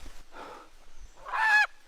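A chicken lets out one loud, harsh squawking call near the end, preceded by quieter, scattered rustling and soft noises close by.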